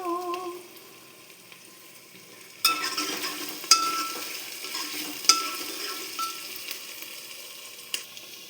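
Onions are frying in a pan for a cabbage and potato curry. The sizzle is soft and steady, broken by a few sharp clinks of a utensil stirring against the metal pan, with no one speaking.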